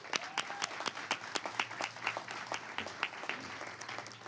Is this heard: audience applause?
yes